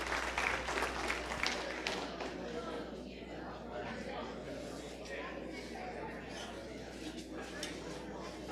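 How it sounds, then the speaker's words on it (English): Audience at a county stock show gives a round of applause, sustained clapping from a crowd in an indoor arena that carries on steadily, with a little chatter underneath. "Let's put a round of applause together for them"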